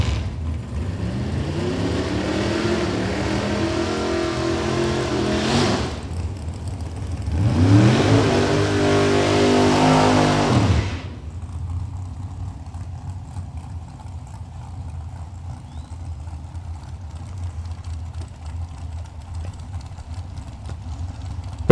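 Ford and Chevrolet drag race cars with big-cubic-inch engines, a 550-plus Ford and a 427, roar down the track at a distance in two rising surges, then fade to a low rumble.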